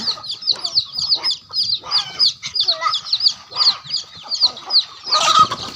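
A flock of chickens clucks and chirps busily up close, overlapping calls coming in quick, steady waves.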